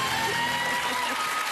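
Brief burst of studio audience applause on a French TV game show, a dense, even wash of clapping heard close and steady throughout.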